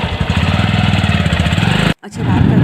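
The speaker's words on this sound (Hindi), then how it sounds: "और बाइक से जा रहे हैं" Motorcycle engine running steadily and loud during a night ride, with a rough pulsing drone that cuts out abruptly near the end before resuming.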